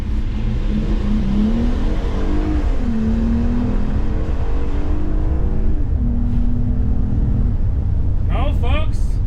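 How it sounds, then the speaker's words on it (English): A 2024 Ram ProMaster EV and a gas ProMaster van launch in a drag race, with a loud, continuous engine and road roar that rises in pitch as they accelerate. Brief voices come in near the end. "Okay, here we go. Second drag race."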